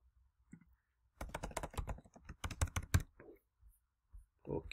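Keys tapped on a computer keyboard as a password is entered, a quick burst of close, crisp clicks in uneven rhythm with short pauses, in an otherwise quiet room.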